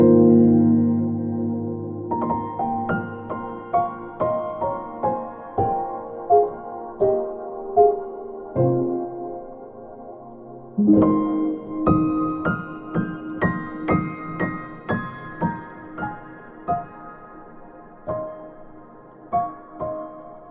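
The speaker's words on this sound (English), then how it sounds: "Spitfire Labs has a nice one called the Soft Piano." A soft, mellow Spitfire Labs Soft Piano plays a slow, gentle melody with sparse notes and chords, each note fading quietly, alone with no other sounds.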